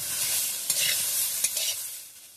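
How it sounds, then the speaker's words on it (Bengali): Drumstick pieces frying with mustard in a pan, stirred steadily so a loud, continuous sizzle is broken by a few scraping strokes, close and with no voices. "ভালো করে নেড়ে চেড়ে নেব।"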